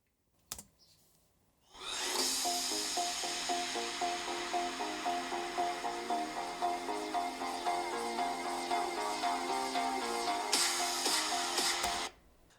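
An Alienware 16 Area 51 laptop's built-in speakers playing a test track at 50% volume, a steady, fairly busy stretch of music with pulsing, rhythmic tones lasting about ten seconds, heard alone without talk.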